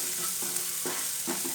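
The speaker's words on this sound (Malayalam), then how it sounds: "നമ്മുടെ ഉള്ളി മൂത്ത് വരുന്നുണ്ട്." Onions fry in a pan for a carrot and beetroot thoran, a constant close sizzle broken by a few soft scraping stirs at a regular pace, with no voices.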